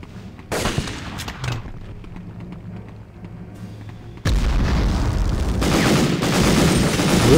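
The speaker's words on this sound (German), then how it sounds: "Sie schießen nur da durch zwei Wände durch." Gunfire in Medal of Honor shooting through walls: a few sharp shots early on, then a sudden heavy, sustained barrage of loud overlapping rifle and machine-gun fire with booming impacts, no talking.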